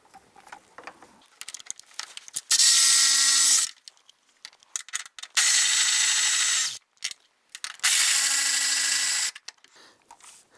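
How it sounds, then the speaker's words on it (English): A power tool with a 10mm socket and extension removes the battery tray bolts on a 2015-2020 Cadillac Escalade, sounding as three loud, steady whirring bursts of about a second each, separated by quiet clicks and handling noises. "Using our 10mm socket and extension and power tool here, you can use a hand ratchet if you want to."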